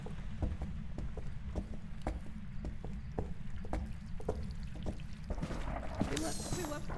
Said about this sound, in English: That rain's loud, dude.